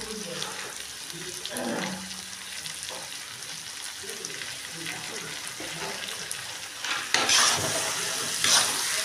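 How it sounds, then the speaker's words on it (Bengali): Moong dal with green chilies and turmeric sizzles and is stirred in a pan, a soft steady frying hiss with occasional scraping, faint and close. "এবার একটা ডাল সহ ভালো করে কষিয়ে নেব।"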